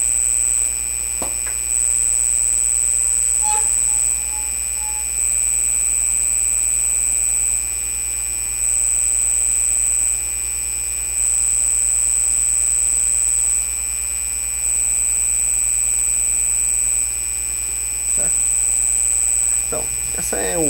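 Delta ASDA A2 servo motor running: a steady electrical whine with a high-pitched tone cycling on and off every few seconds as the motor loops through its moves, plus occasional clicks.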